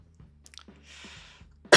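A single harsh, close cough bursts out abruptly at the end, preceded by quiet breathing and faint rustling in an indoor setting.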